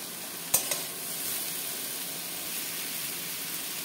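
Water spinach with slit green chillies stir-frying in a pan, a soft steady sizzle and hiss after two quick clanks near the start.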